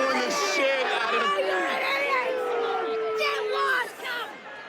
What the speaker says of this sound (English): they're booing the shit out of